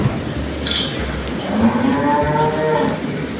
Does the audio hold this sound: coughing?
no